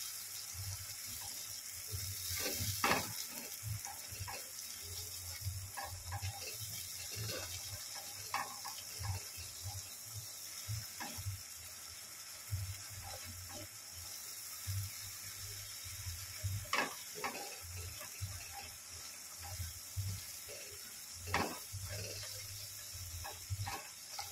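An eggplant vegetarian dish, begun bahari, is stirred and fried in a pan, giving a soft continuous sizzle with occasional scraping and clinks of a spatula, faint and steady throughout.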